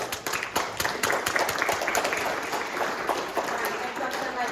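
Audience at a neighborhood community meeting applauding, a dense, steady wash of many hands clapping throughout, with faint crowd murmur underneath.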